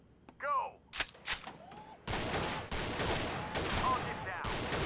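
Pistol shots in the VR shooting game Gun Club VR: a few sharp isolated cracks early on, then a rapid run of loud shots over a continuous din of game noise and effects.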